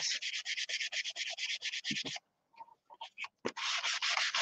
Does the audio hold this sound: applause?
no